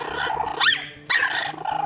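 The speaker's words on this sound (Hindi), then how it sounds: "मगर कुत्ते का फौंकना जारी रहा।" A dog barks in two sharp, loud close bursts with growly undertones between them, alone without talk.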